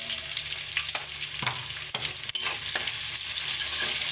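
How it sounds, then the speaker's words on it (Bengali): Onions salted and frying in a pan for a chicken bhuna: a loud, close, continuous sizzle broken by regular scraping strokes of a spatula. No one speaks. "এখন ভালোভাবে পেঁয়াজটা ভাজে নেব"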